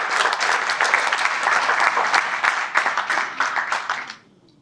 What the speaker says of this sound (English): please join me in just giving them another round of applause.